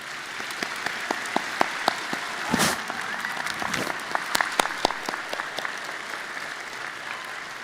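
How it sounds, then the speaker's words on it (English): Audience applause at an undergraduate diploma ceremony for the Department of Computer Science and Engineering, thanking the event organizers; sparse, distinct claps ring out individually with a soft crowd murmur behind, close and lively throughout. "Please join me in a round of applause for these wonderful organizers"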